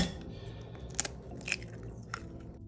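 An egg cracks against a hard edge and drops into batter for fried zucchini, with a few brief, faint, close crunchy taps and crackles in a quiet kitchen.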